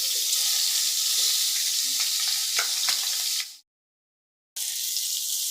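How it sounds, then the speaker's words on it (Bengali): Pieces of katla fish fry in oil with a loud, close, continuous sizzle and some scraping pops. The sound drops out for about a second near the end, then the sizzle resumes. "এই মাছগুলো ভাজা হয়ে গেছে বন্ধুরা তুলে নিচ্ছি"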